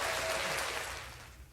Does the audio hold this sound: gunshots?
no